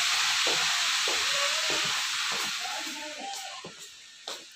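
Chira fish frying in a pan on a medium flame, a steady close hiss and sizzle that slowly fades, with a few faint clicks and knocks of kitchen handling beneath it.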